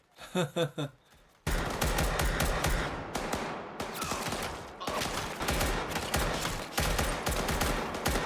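Heavy gunfire in a Squid Game season 2 scene, a few sharp shots at first, then sustained loud automatic bursts and rapid volleys close by, continuous with brief gaps.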